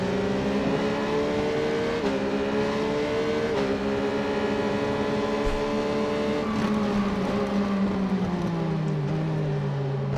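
A Triumph motorcycle racing on a circuit in the Ride 4 video game, its engine a loud, steady high-pitched whine that rises and falls through gear shifts.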